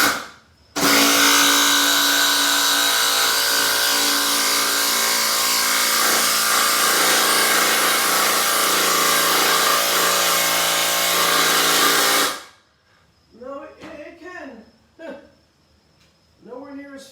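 A Dewalt 12V Xtreme impact driver runs continuously for about eleven seconds, a loud buzzing whir with a dense harmonic whine, then cuts off abruptly before a person starts talking.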